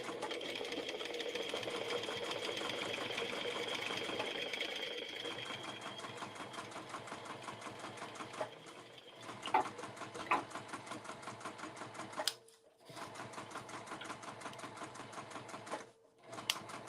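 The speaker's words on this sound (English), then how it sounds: "So I'm going to sew using an 1/8 of an inch seam allowance." A sewing machine stitching fabric at a 3mm stitch length with an eighth-inch seam allowance for a small bag: steady fast mechanical whirring and needle chatter, close and fairly quiet, pausing briefly a few times.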